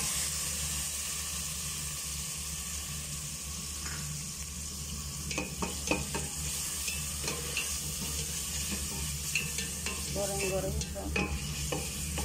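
Chicken pieces sizzle in a hot pan for sorbah soup, a constant frying hiss broken by repeated scraping clicks and knocks of a utensil stirring them, close and fairly loud.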